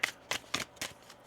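Oracle cards being shuffled by hand, four quick, soft papery bursts in an even rhythm, close by and quiet.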